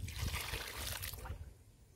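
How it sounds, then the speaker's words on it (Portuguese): Water poured generously from a container onto fresh potting soil in a plant pot, a close splashing trickle that runs strongly for about a second and a quarter, then thins to a faint dribble. "Vou colocar bastante água nela."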